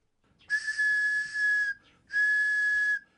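A shrill, steady handmade whistle blows in two long blasts with a short break between, clear and close with nothing else around it.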